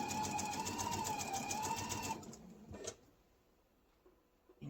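A sewing machine stitches an apron in a steady rapid hum, loud and close for about two seconds before stopping, followed by a brief clatter and quiet handling sounds.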